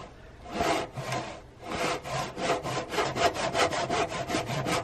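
A hand saw cutting through wood for a small mallet, close and loud, with steady rasping back-and-forth strokes that start slow with pauses and then speed into a quick even rhythm, no voices.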